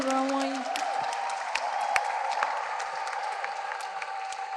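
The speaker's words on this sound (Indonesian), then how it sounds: "Kita beri tepuk tangan semuanya untuk semuanya." Audience applause closing a seminar gathering, a dense patter of clapping from a room of people with a few whoops, running throughout while a voice talks over it.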